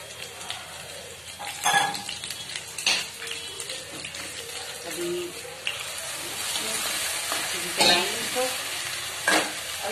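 Chopped green chillies sizzle and fry in a pan of kadhi while a spoon stirs with intermittent scraping clinks, a steady close crackle, with a voice speaking faintly at times.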